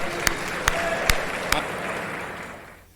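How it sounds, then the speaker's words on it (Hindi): A live audience at a Hindi comedy poetry show claps in a dense burst of applause, with a few sharp louder claps standing out before the sound tapers off toward the end. "बस एक बार तालियां बजा दो"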